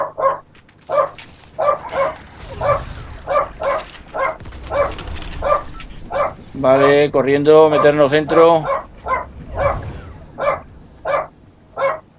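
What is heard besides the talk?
dog barking in the room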